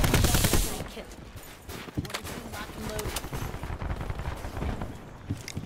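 Video game gunfire: scattered shots crack through a busy, noisy mix, with a dense burst at the start and a few sharp reports later on, while voices talk over it.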